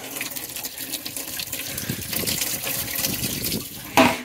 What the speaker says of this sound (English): Just waiting for the tank to fill back up.